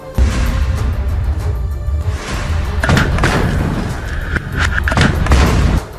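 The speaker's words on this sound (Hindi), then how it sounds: "जिसके बाद जोरदार ब्लास्ट हुआ और हमास का दूसरा टारगेट और इजराइल की दूसरी बख्तरबंद गाड़ी उड़ गई" A loud explosion as a rocket strikes an Israeli armored vehicle in combat with Hamas fighters: heavy booming blasts and rumbling thuds sustained across the clip, with sharper impacts near the middle and end, and no talk.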